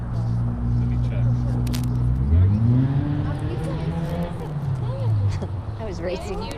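A car drives past near an outdoor Saturday-morning hot yoga gathering in a park, its engine swelling and then fading as it goes by, with people talking loudly over it.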